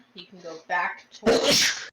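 A single sharp sneeze bursts out right after someone speaks during a tabletop role-playing session, loud and close, cutting across his talk.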